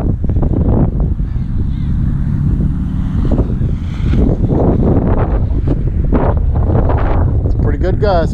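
Strong gusty wind buffets the microphone in a steady low roar during an outdoor training session, likely on the water, with people talking over it throughout.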